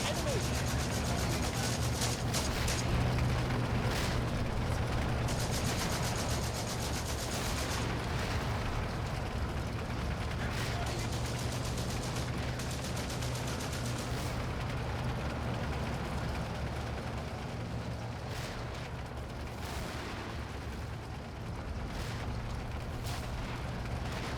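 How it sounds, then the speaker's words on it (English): Mortar rounds firing in the video game Combat Mission: Afrika Korps, a dense continuous barrage of booms and blasts that rumbles on steadily throughout, with a voice talking over it. "so it's firing about 20 rounds per turn. 20 mortar rounds per turn."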